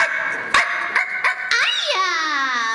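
Animated dog Ein from the anime Cowboy Bebop gives several short yips and barks up close, then a longer rising-and-falling whine, with a high voice cutting in partway through.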